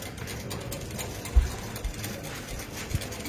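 A longarm quilting machine stitching a pattern, a steady mechanical whirring hum with soft rhythmic ticks and a couple of light thumps.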